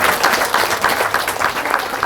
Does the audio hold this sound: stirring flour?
no